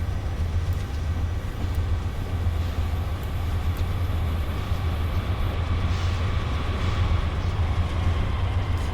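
A Metro North commuter train passing in the Train Simulator 2019 video game gives a steady, loud, continuous rail rumble with a strong low drone that holds evenly throughout, with no talking.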